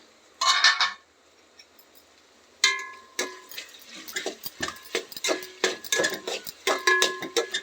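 Metal utensil scraping and clinking against a pan of okra and tomato curry in irregular bursts, with a short pause before steady stirring clatter resumes close by.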